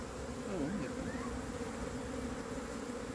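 A recovered honeybee swarm fans pheromones at the entrance of a new hive, giving a dense, steady buzzing hum of many wings close to the microphone.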